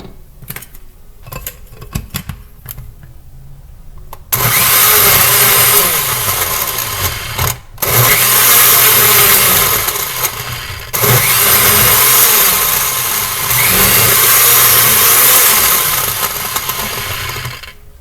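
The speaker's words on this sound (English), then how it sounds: "And now we're going to blend it all up." A blender whirs loudly, chopping pineapple chunks with water in steady bursts, stopping briefly twice between long runs, after some quieter clattering at the start.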